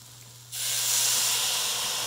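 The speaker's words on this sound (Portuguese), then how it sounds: "Colocar uma xícara de vinho branco" White wine poured into a pan of hot toasted risotto rice, erupting into a sudden loud, steady sizzling hiss that starts abruptly after a quiet moment and holds close and strong.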